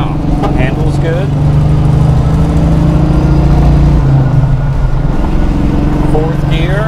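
A 1979 Camaro Z28 engine with a new exhaust drones loudly and steadily with a deep exhaust rumble, heard from inside the car in fourth gear as people talk over it.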